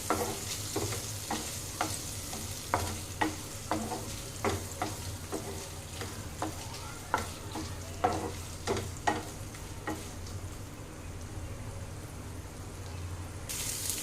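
Paneer shallow-fries in butter in a pan, a low sizzle running under repeated spatula stirs and scrapes at a fairly even rhythm, close up with no talking.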